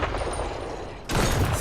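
Sniper rifle fire in a hardcore permadeath video game: steady loud gunfire rumble, then a sharper, brighter report cracks in near the end and stays intense.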